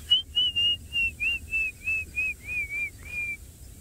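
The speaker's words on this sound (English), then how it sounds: "the water thickney, which makes its very strident whistling" A water thick-knee gives a strident whistling call, a clear series of about ten evenly spaced, slightly falling whistled notes at moderate distance over a quiet background.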